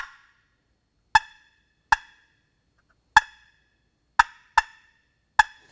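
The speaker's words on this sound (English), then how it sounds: "It gives you a perfect cluck every time." Six sharp, separate clucks from a wooden turkey box call, made by bumping the lid with the thumb, sounding at uneven intervals with clear silence between them and no talking.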